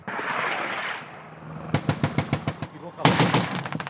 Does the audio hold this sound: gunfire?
yes